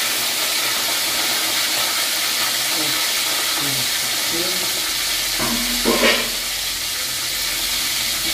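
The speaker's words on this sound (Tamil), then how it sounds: "நல்லா வதங்கிக்குது" A vegetable stir-fry sautés in a pan with a constant close sizzle and hiss, and a few brief stirring scrapes rise above it near the end.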